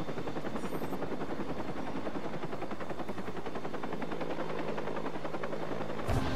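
Helicopter in the video game Watch Dogs, a rapid rhythmic rotor chop pulsing steadily and fairly loud, with engine drone underneath and a sharp burst right at the end.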